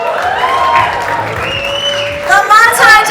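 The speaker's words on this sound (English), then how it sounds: "I'd like to welcome on stage with a huge round of applause the executive producers of the docu-series" Audience applause and cheering greet executive producers arriving on stage at a trailer launch event for a docu-series, a steady crowd clapping over a host's amplified voice, swelling louder near the end.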